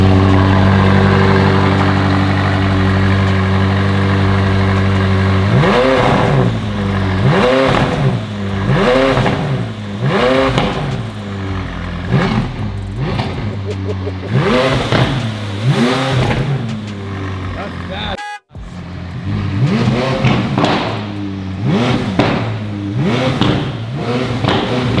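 A 2020 Toyota Supra with a widebody kit and new wrap idles loudly up close, then is revved again and again in sharp, rising bursts, with one brief cut-out near the end before the blipping resumes.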